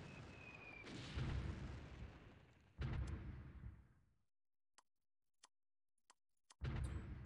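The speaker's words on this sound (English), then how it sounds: "Artillery starting to land." Artillery shells land in a wartime strategy game in repeated loud, booming blasts, each trailing off into rumble, with sharp faint ticks filling the quiet gaps between impacts.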